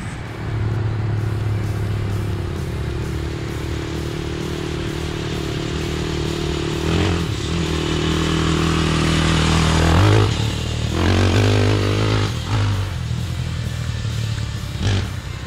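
A tractor powered by a Yamaha YZ450F engine, fitted with a muffler, roars through woods, its engine note steady and loud, then revving and rising with sharp bursts toward the end.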